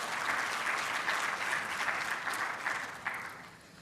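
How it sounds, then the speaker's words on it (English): Sustained applause from an audience for a group of medical students and faculty after a simulation demonstration, dense and steady clapping that fades slightly toward the end, with no talking. "let's just give them one more round of applause"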